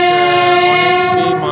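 A train horn sounds loud and close, a sustained steady blast held for about a second and a half as the train runs between mango orchards in Malda.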